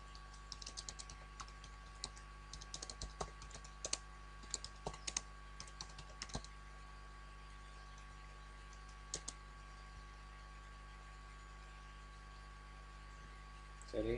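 Bursts of quick clicking keystrokes on a computer keyboard while typing C code, fairly faint and irregular, clustered in the first few seconds with a steady low hum and scattered single taps afterward.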